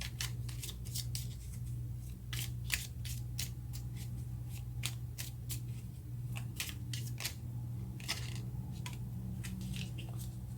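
Tarot cards being shuffled and drawn by hand, with a run of close, crisp riffles and flicks in quick irregular bursts over a faint steady background hum. No one speaks.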